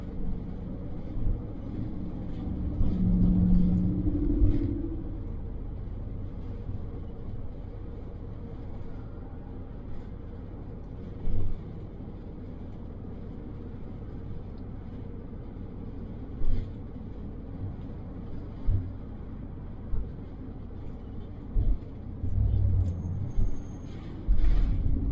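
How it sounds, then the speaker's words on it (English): Cars moving along Alabama Highway 68: a steady low rumble of traffic with a swelling whoosh as one vehicle goes by and a few later thumps and bumps, heard from inside a moving car with no talking. "There's about 5 cars coming up."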